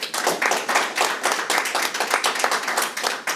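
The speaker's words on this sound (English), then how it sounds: "if you all join me in giving Gordan a nice round of applause" Applause at an evening poetry reading for the poet: a small audience clapping steadily in a room, close and fairly loud, in an even rhythmic patter with no talk over it.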